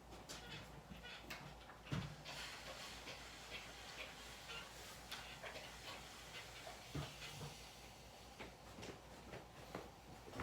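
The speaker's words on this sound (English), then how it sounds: "I'm gonna take it back to the iron and I'm gonna steam the heck out of this corner right here" Steam iron blasting a fabric corner while a skirt is sewn, faint hissing bursts with small clicks and thumps, all quiet and close.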